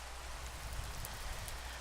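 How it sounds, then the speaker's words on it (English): Steady rain falling in a Minecraft-style video game, a soft continuous hiss of drops with no talk over it. "It's raining"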